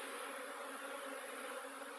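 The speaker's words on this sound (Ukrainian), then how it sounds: "бджола" A Buckfast bee on an orientation flight buzzes steadily and quietly up close, its faint hum continuous with no other sounds.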